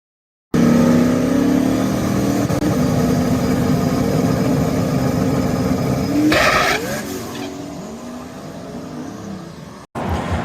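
A drag racing car makes a test pass on a strip, its engine roaring loud and steady as the tires spin, then the note shifts and fades as the car pulls away into the distance.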